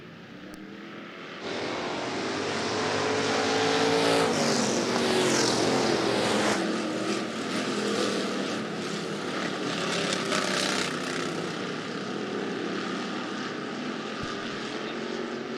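Hobby stock race cars circle a dirt speedway at the Rapid Speedway season opener, a loud sustained engine roar rising sharply after a quieter start and holding steady as the pack passes.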